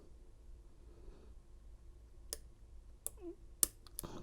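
Faint clicks from a Lishi HU101 pick working the wafers of a Volvo door lock, a few sharp isolated ticks spaced over several seconds against a quiet background.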